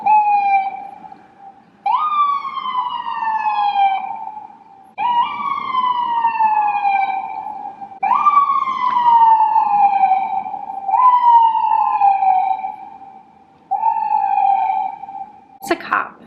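A police car siren whoops in loud, repeated rising-and-falling bursts, about six cycles with short gaps between them, close by and heard alone, ending in a brief sharp click.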